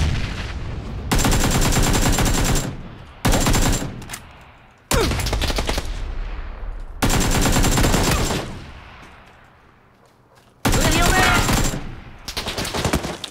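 Video game battle gunfire and a grenade: loud bursts of automatic fire in several long volleys, with sharp blasts that ring out and decay between them, close and dominant with no talk.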